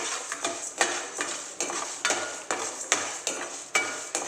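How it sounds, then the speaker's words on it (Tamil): Coriander seeds roast in a pan on the stove for spicy capsicum rice. A spoon stirs and scrapes against the metal in a steady series of sharp clinks and scrapes about every half second, close and with no voices. "இது கூட மல்லியும் சேர்த்துறோம். எல்லாம் நல்லா வறுக்கணும்."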